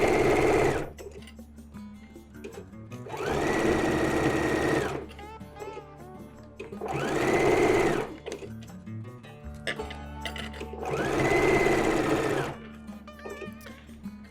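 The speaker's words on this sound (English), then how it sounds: "I'm going to follow that stitching line once again." A sewing machine stitches a flower appliqué pillow in three steady, whirring runs, each a few seconds long, separated by quieter pauses with light mechanical clatter.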